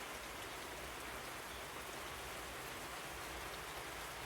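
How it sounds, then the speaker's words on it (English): Rain falls steadily on a back porch on a cold, cloudy day in West Virginia, a soft, even patter and hiss with no voices. "It's cloudy, it's cold, but it's lovely to see the diamond rain."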